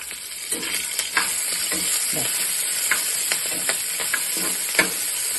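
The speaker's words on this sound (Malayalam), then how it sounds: "കറി ലീഫൊക്കെ ഇട്ട് ഒന്ന് ഇളക്കാം" Curry leaves stirred in a hot frying pan, a steady loud sizzle and hiss with repeated scraping strokes of a spoon against the pan.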